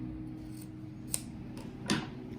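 Scissors snip through fabric scraps for a patchwork rug, two or three short crisp cuts over a low steady hum, close and quiet.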